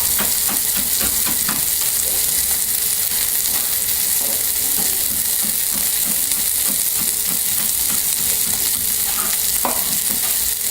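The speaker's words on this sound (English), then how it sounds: "all you're doing with your onion is just sweating it out" Onion sweating in a pan alongside rice being toasted, giving a steady close sizzle with frequent scraping stirs throughout.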